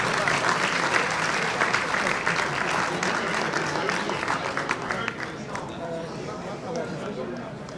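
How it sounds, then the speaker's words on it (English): A crowd breaks into sustained applause for Metropolitan Chrysostomos at a Greek Orthodox gathering, dense clapping that holds steady and then thins slightly toward the end, with voices murmuring underneath. "a round of applause for Metropolitan Chrysostomos"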